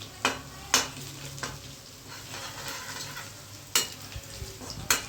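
Steady oily sizzling as garlic and asafoetida temper in a hot pan, punctuated by several sharp metallic clinks of a spoon against the pot.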